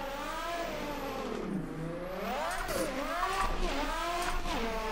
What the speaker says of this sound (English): This car's just so loud.